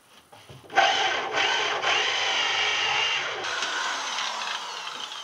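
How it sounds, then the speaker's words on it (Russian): A drill with a wood hole saw bites into a floor joist with a sudden start, then grinds steadily with a rough, rasping whir that changes pitch partway through, up close. "Для этого нужна коронка по дереву, и будем сверлить."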